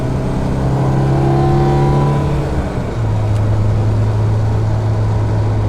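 A modified 1974 BMW 2002tii with a 5-speed gearbox and a strong engine build drones loudly while driving. The steady revving tone drops in pitch partway through as the car downshifts, then carries on.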